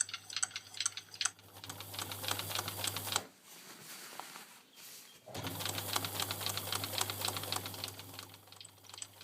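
A sewing machine runs steadily as it stitches a lapped zip into a skirt, sewing alongside sticky tape. It whirs at close range, stops for about two seconds, then starts again, with no talk.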